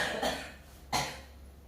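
A man recovering from illness gives two short, separate coughs close to the microphone, about a second apart, with quiet room tone between.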